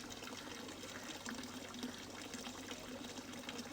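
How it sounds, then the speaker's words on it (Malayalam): Faint, steady water pours and trickles from a pipe into a tank at a small river-powered electricity setup, a soft continuous splashing heard from a distance. "ഈ പൈപ്പ് നേരെ വന്നിട്ട് ഈ ടാങ്കിലേക്കാണ് ചാടുന്നത്"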